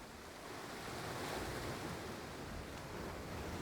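Atlantic Ocean waves crash and wash in a steady broad roar of surf mixed with wind noise, sustained and fairly close, with no voices.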